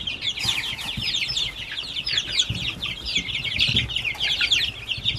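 Chickens and chicks in a brooder keep up a busy chorus of high peeping and clucking, close and continuous, with occasional wing flaps and rustling beneath.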